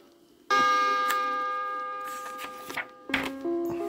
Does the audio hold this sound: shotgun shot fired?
no